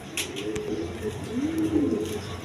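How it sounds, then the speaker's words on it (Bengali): A red Gopalganj pigeon coos softly and repeatedly over a low background of steady noise, with faint higher chirps in the mix. "রেড কালার গোপালগঞ্জের পায়রা"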